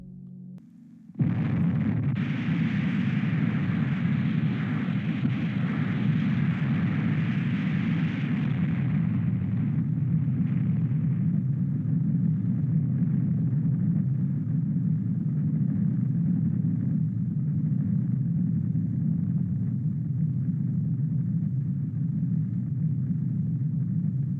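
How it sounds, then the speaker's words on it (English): The Baker shot of Operation Crossroads, a nuclear bomb set off 90 feet underwater, is heard as a sudden heavy blast that swells into a long, dense roaring rumble, brighter at first and then settling into a low sustained roar. "Then, on July 25th, Baker would be detonated."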